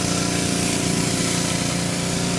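A 2800 psi power washer drives a surface cleaner across a stamped concrete driveway, a loud, steady, dense spraying roar with a mechanical drone, close up and uninterrupted.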